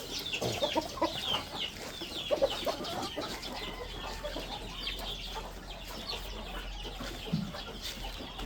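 Chickens on a rural Filipino homestead cluck and chatter steadily at moderate distance, with scattered bird calls and faint background activity throughout.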